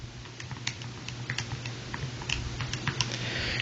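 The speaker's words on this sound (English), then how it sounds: "We'll go ahead and type that into the calculator." Calculator keys are pressed in a quick run of light, irregular taps, close and faint over a low hum.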